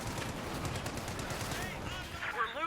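BAR automatic rifle fire in the Company of Heroes 2 strategy game, rapid bursts blending into a steady battle din with other weapons and a brief chirping effect near the end, a voice faintly mixed in.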